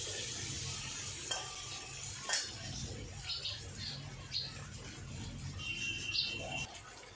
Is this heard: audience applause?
no